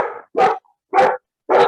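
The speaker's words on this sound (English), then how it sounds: "that's my dog." A dog barks in three sharp, evenly spaced woofs, close and loud, with short silences between each bark.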